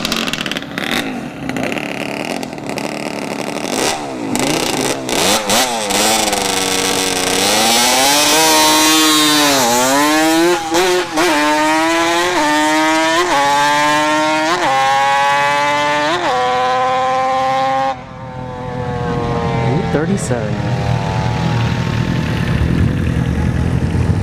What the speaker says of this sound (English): The bikes are hot lapping.